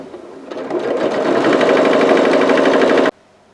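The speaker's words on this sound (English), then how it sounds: "we're going to sew right down the centre" A sewing machine stitches a string quilt made from scraps in one steady, fast run of mechanical whirring that lasts about three seconds, then stops abruptly.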